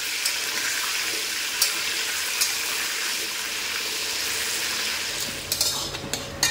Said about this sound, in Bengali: এখানে মশলা কষানো হচ্ছে